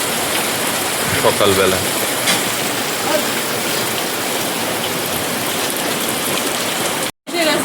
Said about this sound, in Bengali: ঝমঝম করে বৃষ্টি এলো